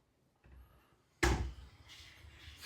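A door opens inside a riverfront house, leading to a pantry. A soft handling sound comes first, then a sharp close thud or latch, followed by rustling movement in a quiet room with no talking.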